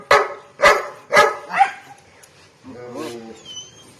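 A dog whimpers and yelps, four sharp cries in quick succession followed by softer drawn-out whines and a faint high whine at the end, close by.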